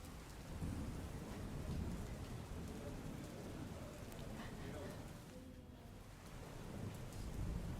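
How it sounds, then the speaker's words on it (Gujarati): Heavy monsoon rain pours steadily in Dediapada, Narmada, Gujarat, with deep rumbles of thunder rolling through the downpour; a continuous, dense wash of sound. "છત્તરસિંહ જે રીતે ભારે વરસાદ વરસ્યો છે ડેડિયાપાડામાં પણ ધોધમાર વરસાદ વરસ્યો છે"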